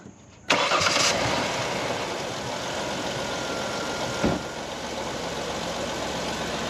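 A car engine with new plug wires, spark plugs, coil pack and fuel filter cranks briefly and catches, then settles into a steady, loud idle with one small bump in the rumble.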